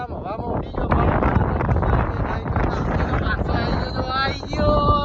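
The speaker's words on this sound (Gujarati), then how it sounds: "ભાઈ સિરિયસલી જોરદાર પવન આવી રહ્યો છે" Strong gusting wind during a storm in Chandkheda, Ahmedabad, roaring loudly across the microphone throughout, with voices talking over it.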